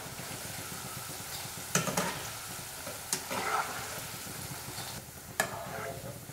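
Small vegetable pieces for veg crispy fry in hot oil with a continuous sizzle. Several sharp stirring clatters cut through it near the start, the middle and the end.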